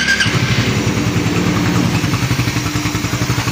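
A Suzuki Raider 150 Fi motorcycle engine runs at a steady idle after oil and coolant mixed inside it, a close, loud, even rhythmic putter that carries alone throughout.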